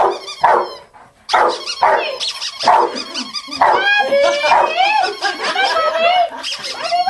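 Puppy barking and yipping in bursts during a dog training session, close and lively, mixed with a trainer's voice and some laughter.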